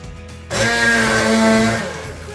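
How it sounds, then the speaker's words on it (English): A blender motor blending oats roars to life after a brief quieter moment, running loud and steady with a whining hum, then easing slightly toward the end. "I'm going to use this blender."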